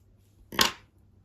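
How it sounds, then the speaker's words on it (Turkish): A single short snip of scissors cutting thread during needle lace work, close and crisp, alone in a quiet room. "içe doğru yani öne doğru şöyle çekiyorum ve burada kesiyorum"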